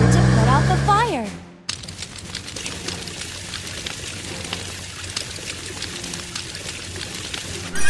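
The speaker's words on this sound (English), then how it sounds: "Use water to put out the fire." Water gushes and pours in a cartoon fire rescue, a steady close splashing hiss that takes over after a rising, warbling whistle-like tone, continuing evenly to the end.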